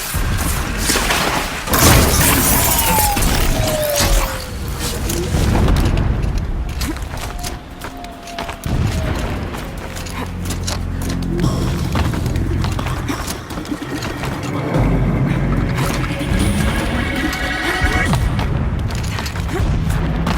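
Distant explosions in the video game Horizon Zero Dawn, during an infiltration of an enemy base: dull booms and rumbling thuds roll in at a distance beneath a dense, continuous wash of game ambience for about twenty seconds.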